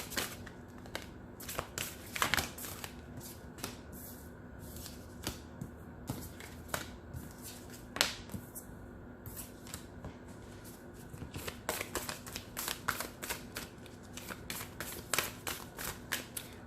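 Tarot cards being shuffled by hand, a series of soft riffles and crisp slaps repeating close by, under a quiet steady hum with no talk.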